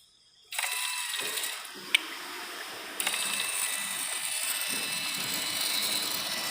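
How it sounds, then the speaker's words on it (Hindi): A Volkswagen Passat's diesel fuel pump, running louder than it should, starts up abruptly with a loud, steady mechanical whine and rattling clatter, close by, with a couple of sharp clicks and no voices. "पंप देखो कितना आवाज़ कर रहा है, इतना आवाज़ नहीं करना चाहिए"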